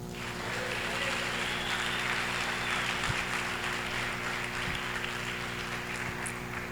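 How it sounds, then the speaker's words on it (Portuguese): A church congregation at a Feast of Tabernacles service applauds in a steady, moderately loud wash of clapping heard over a constant low hum, with a few thumps and no speech. "Aplauda o Senhor."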